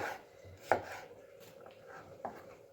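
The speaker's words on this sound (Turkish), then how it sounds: "Hemen şöyle doğruyoruz" A knife chops jalapeño peppers on a board in a few separate, soft, close knocks with quiet gaps between them, and no voices.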